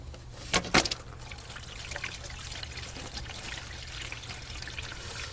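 Engine oil draining fast from a 2018 Ford Edge Sport 2.7L EcoBoost V6 into a catch pan, a steady soft trickle after a brief louder splash near the start.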